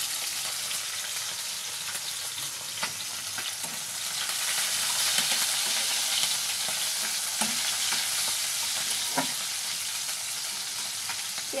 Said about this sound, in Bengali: এখন আমি দিব পেঁয়াজ, এর সাথে দিব কাঁচামরিচ,